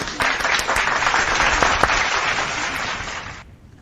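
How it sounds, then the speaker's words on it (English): Dense, energetic round of applause with many hands clapping at once, loud and continuous for about three seconds before cutting off abruptly. "Let's give everyone a round of applause."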